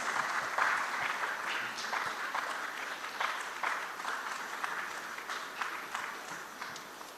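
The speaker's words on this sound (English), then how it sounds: "Please join me in giving a sound round of applause to Dr. Baloni" Sustained applause from a conference audience at a social impact summit, dense steady clapping filling the room for several seconds without pause.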